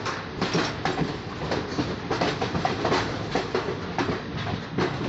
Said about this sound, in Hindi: प्लेटफॉर्म नंबर 1 पे आई है हमारी ट्रेन।